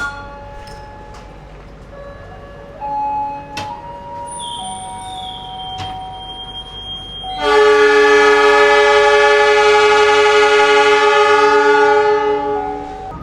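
Pandalungan 2 passenger train at a station: scattered tonal squeals and a brief horn, then a loud sustained multi-tone horn blast holding steady for several seconds before fading, close and unobscured.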